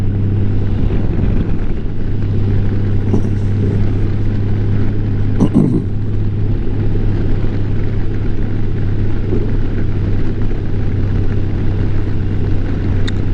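A motorcycle ride with a loud, continuous rumble of engine and rushing wind heard close up from the rider's position, with a couple of brief clunks partway through.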